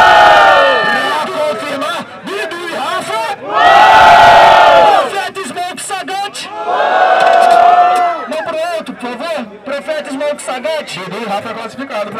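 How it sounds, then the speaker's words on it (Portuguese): Loud crowd cheering and shouting at a Brazilian freestyle rap battle, the Batalha do Tanque, rising in two big roaring bursts between stretches of lively chatter and whoops. "Barulho, quem gostou da rima do freestyle do Bidu e do Rafa?"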